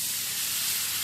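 Loud steady sizzling hiss as cinnamon and cardamom spice water is poured into chicken frying in a pan, a dense unbroken roar filling the whole moment.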